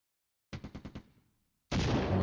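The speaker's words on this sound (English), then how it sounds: "That's again enemy artillery fire." Enemy artillery fire in a wargame, a quick run of five or six loud booming reports that fade out, then a brief gap before a dense, sustained blast of noise begins.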